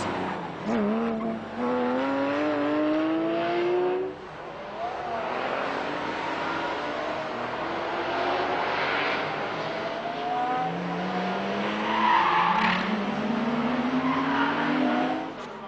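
Race cars battling and overtaking at Magny-Cours, several engines rising and falling through gear changes, with passing cars and occasional tyre squeal, loud and continuous for the whole stretch.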